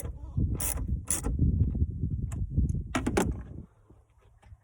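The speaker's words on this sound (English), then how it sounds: "Now we've got to put this bolt in to seal it" A bolt being threaded and tightened to seal a cold air intake on a 2019 Dodge Charger Hellcat, giving close, loud mechanical ratcheting and clicking in several bursts that ends in a quieter, steady hum.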